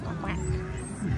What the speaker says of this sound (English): So many ducks!